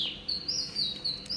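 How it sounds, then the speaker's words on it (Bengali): Birds chirp at dawn outside a balcony on a cool morning after rain, giving a few bright, quick tweets in short bursts over quiet background, with no talking. "পাখি ডাকছে, দেখো কি ভালো লাগছে।"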